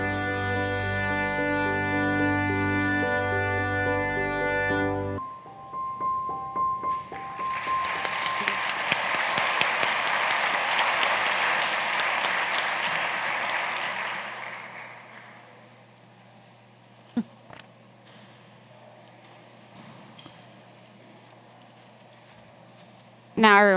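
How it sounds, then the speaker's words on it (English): An audience at a panel discussion applauds after a film screening, a broad wash of clapping that rises after a short stretch of tonal sound, holds for several seconds, then fades into quiet room tone with a few isolated knocks. "Let's give it another round of applause."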